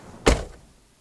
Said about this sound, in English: I'm going to just go ahead and close the door